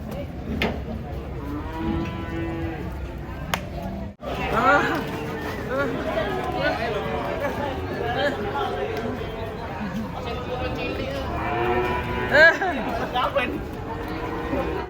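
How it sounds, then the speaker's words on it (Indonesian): Giant cattle moo repeatedly as they are unloaded from a truck, with long, loud bellows over a steady background of crowd chatter and people talking nearby. "Datangan sapi raksasa guys."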